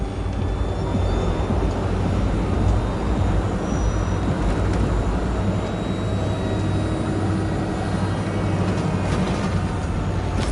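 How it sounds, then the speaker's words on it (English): A small drone hums steadily in the Badlands of Cyberpunk 2077, a continuous loud engine-like drone with a broad low rumble that holds level throughout, with no talk over it. "Did you fire up that drone? The little bird is humming away."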